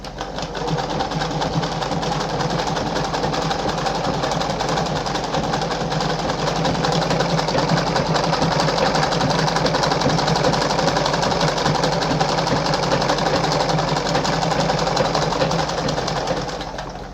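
A Singer 5107 sewing machine running a zigzag stitch on fabric, a loud, steady, continuous mechanical whirr and rapid needle chatter that holds unbroken from start to finish.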